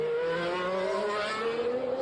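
A Formula 1 car in practice at the 2021 Monaco Grand Prix gives a steady, high harmonic engine whine that holds at an even pitch and moderate distance throughout, with no voices.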